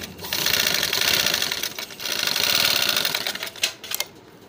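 An electric sewing machine stitches the shoulder seam of a small boy's kurta in two fast, rattling bursts, close and loud, with a short pause between and a few clicks as it stops.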